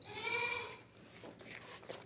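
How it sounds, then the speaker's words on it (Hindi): A goat bleats once, a loud wavering cry held for most of a second, followed by softer rustling and faint background noise with no talking. "बहुत ही ज़बरदस्त गबन बकरी है सोने वाली।"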